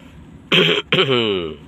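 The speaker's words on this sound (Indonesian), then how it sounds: "Maaf saya batuk." Two quick throat-clearing coughs close up, the second trailing into a rough voiced rasp.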